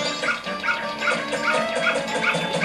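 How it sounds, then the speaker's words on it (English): A dog in The Legend of Zelda: Majora's Mask barks in a quick repeating run of yappy, game-style barks, close and fairly loud, with no talking over it. "That dog wants to kill me."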